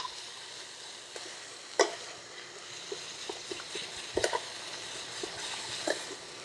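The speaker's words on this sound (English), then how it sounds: "That's what you're hearing sizzling." Steady crackling sizzle of cauliflower frying in a pan after a splash of water, with occasional sharper pops and spits over a constant hiss.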